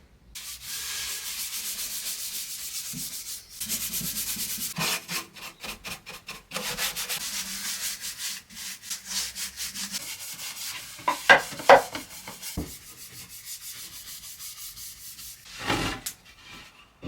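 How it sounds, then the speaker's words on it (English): A rag or pad rubs feed and wax into the inside of an Art Deco wooden nightstand, giving a dry, scratchy back-and-forth swishing in irregular strokes with brief pauses. "I'm just going to use some of this feed and wax for the inside"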